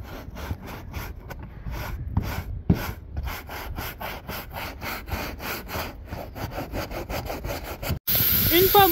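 Brushing old glue off the headliner of a Porsche Panamera, a steady rhythm of close, rasping scrubbing strokes, with a louder, harsher burst of scraping near the end.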